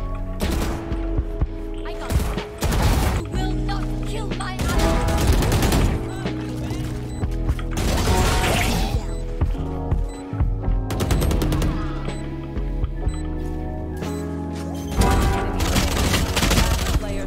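Rapid bursts of gunfire from a gun in the shooter game Valorant, sounding in repeated loud volleys with short gaps, layered with game effects and dense, busy mixing throughout.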